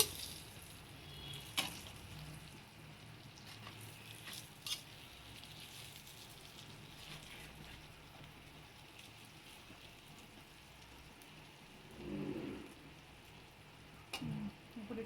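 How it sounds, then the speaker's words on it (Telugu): Chili powder fries in oil in a pan for a brinjal curry, a soft steady sizzle with occasional stirring clatters and scrapes, fairly quiet and with no talk. "జస్ట్ టూ మినిట్స్ అట్లా కారం పచ్చివాసన పోయే వరకు వేయించుకోవటం"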